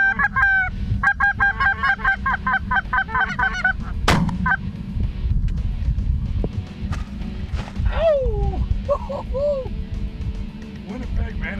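Geese honk repeatedly during a waterfowl hunt in Manitoba, a cluster of calls early and more scattered honks later, over a rumbling outdoor background with people talking.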